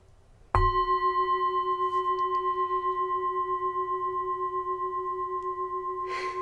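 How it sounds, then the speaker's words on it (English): A single bright strike on a handmade Himalayan singing bowl, then a long, steady ringing tone with a slow wavering pulse that barely fades over several seconds. "So this is the sound of this bowl, is the Himalayan, the handmade bowl."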